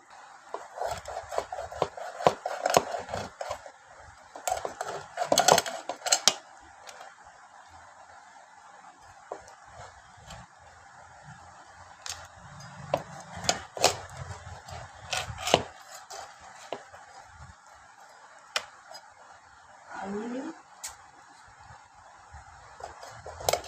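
Native rooster meat being chopped for a Friday feast: irregular knife chops and blade scrapes against a wooden board, close and fairly quiet, in sporadic clusters with pauses.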